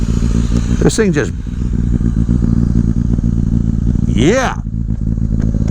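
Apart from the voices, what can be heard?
2000 Kawasaki ZRX1100 motorcycle engine with D&D exhaust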